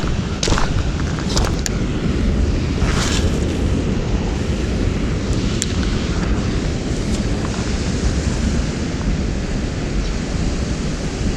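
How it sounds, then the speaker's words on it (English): A small waterfall spilling into a pond in Fort Worth, heard as a steady, close rush of broadband water noise that fills the whole stretch without pause, with no talk over it. "There's a little waterfall over here."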